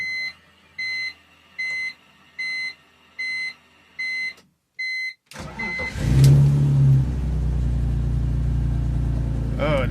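A BMW E46 engine cranks and starts after a series of regular chime beeps, then settles into a loud, steady idle close by.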